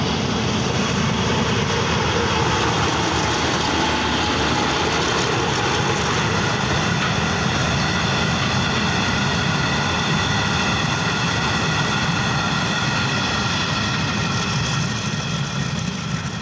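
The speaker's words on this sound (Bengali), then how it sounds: "এই ট্রেনটি যদিও যাত্রীবাহী নয়, মালবাহী" A freight train on the Jessore–Benapole to Dhaka line passes along a track beside a home, giving a loud, continuous diesel rumble with a steady engine drone that holds throughout without talk.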